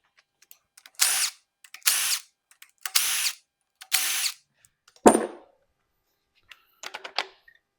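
A power drill runs in four short, evenly spaced bursts while pulling injector hold-down bolts on a junkyard 7.3L engine. A sharp metallic clunk follows, then a brief, scattered whir near the end. The sound is close and loud, and nobody speaks.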